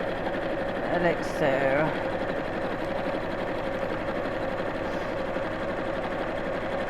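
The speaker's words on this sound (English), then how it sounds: "you're watching me sewing in straight lines" A sewing machine runs steadily close by, top stitching fabric in straight lines about 1/8 inch from the edge, as a continuous even whir with a voice speaking briefly over it.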